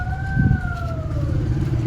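An ambulance siren wails with a smooth falling pitch, fairly close, over a steady background rumble of traffic.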